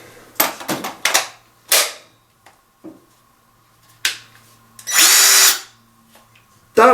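Several short bursts of a cordless drill with a large battery whirring up and stopping, separated by clicks and quiet pauses, with one longer run near the end.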